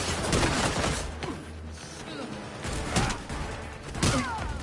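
Gunfire in a Gotham Knights combat encounter, with several sharp bursts at irregular intervals over a dense, noisy game mix.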